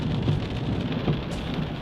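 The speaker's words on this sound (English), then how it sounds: "It's still raining very hard." Heavy rain pouring down during a flood in Alberta, a steady dense hiss of drops hitting surfaces, close and continuous with no voices.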